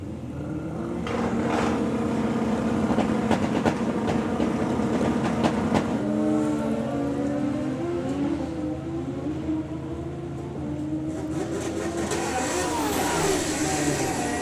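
Kawasaki ZX drag racing motorcycle making a pass at a drag strip, a sustained engine roar with rising pitch sweeps and gear changes, heard from a distance, loud and continuous over crowd-like ambience.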